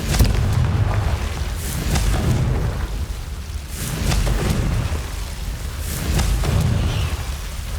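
Deep rumbling booms from Confringo fire-spell blasts in Hogwarts Legacy, several heavy explosions rolling in waves over a continuous low roar, loud and close.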